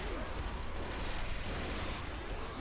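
Dense, continuous gunfire in a Left 4 Dead firefight, a rough, loud wash of rapid shots and booms filling the whole stretch with no pauses.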